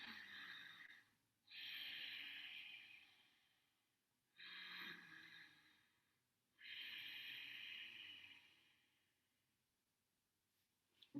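Ujjayi pranayama breathing through the nose with the mouth closed, three slow, soft, throaty rushing breaths separated by quiet pauses, faint and heard alone.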